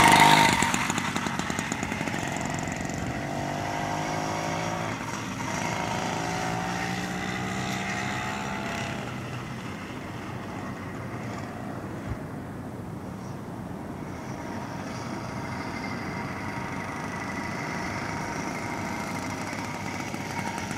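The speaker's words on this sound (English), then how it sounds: "pop the clutch, turn the throttle, give it some gas, and there you go" A U-MOTO motorized bicycle engine runs steadily as the bike gets underway, a loud continuous buzzing drone that rises in pitch early on and then holds, with no talking over it.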